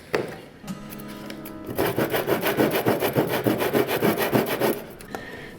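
A hand saw cuts through wood in steady rhythmic back-and-forth strokes, loud and close, after a short scraping start, with no speech.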